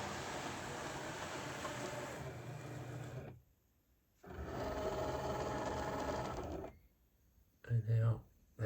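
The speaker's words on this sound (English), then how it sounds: "the file will be sent over and it will start cutting our artwork" A vinyl cutter machine cutting artwork, a loud steady mechanical whir and buzz that stops briefly, resumes, halts again, then gives a short burst of motor noise.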